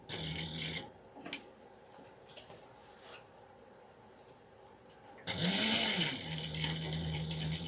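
A sewing machine quilting fabric hums and whirs in two bursts, a short run at the start and a louder, longer run near the end, with quiet rubbing and handling noises between.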